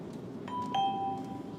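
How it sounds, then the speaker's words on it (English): A doorbell chimes a two-tone ding-dong indoors during ceramic window tint removal, the second tone ringing out and fading over faint background noise. "The ding dong."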